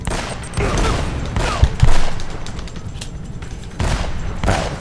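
Gunfire in Uncharted: Drake's Fortune, a continuous barrage of overlapping shots and bursts with a couple of heavier impacts, dense and loud throughout with game ambience beneath.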